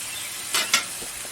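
Marinated flank steak sizzling on a grill, a soft steady hiss with two brief louder flares of sizzle as the meat is turned.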